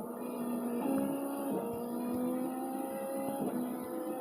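A rally car engine in the video game Rush Rally 3 holds a steady tone, then shifts gear with sharp drops and rises in pitch, loud and close with no voices.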